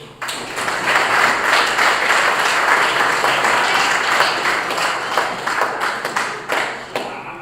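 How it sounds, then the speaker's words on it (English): Audience applause at a closing ceremony for the Nedbank Over-40s Africa Cup, an African over-40s sports tournament: a steady, dense wash of clapping from a sizable crowd, with sharper individual claps standing out as it thins toward the end. "I think you deserve a round of applause."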